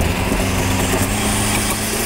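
Daewoo Matiz engine fitted with a new turbo runs at a steady, loud, buzzing idle, close by and continuous with no voices.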